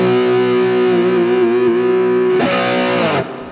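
Heavily distorted electric guitar sustains one note with slight vibrato, then moves to a second, brighter note before fading, loud and close in a progressive rock/metal setting.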